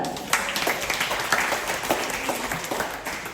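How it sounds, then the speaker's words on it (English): Audience applauding a sheep shearer at a wildlife park farm show in Western Australia, a steady patter of scattered handclaps from a moderate-sized crowd heard at some distance. "Let's give him a clap."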